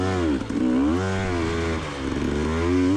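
A motorcycle climbs a steep slope of soft ground at Whiskey Ridge, its engine revving loud and close with pitch rising and falling as the throttle is worked, no talking.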